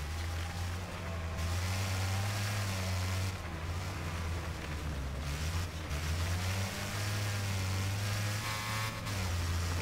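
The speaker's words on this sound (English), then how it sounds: "God, this car is so silly sounding." Engine of a car with a straight-pipe side exhaust and almost no muffling, racing in Wreckfest, holding a loud, buzzy low drone with small pitch rises and dips throughout, close and steady with no talking.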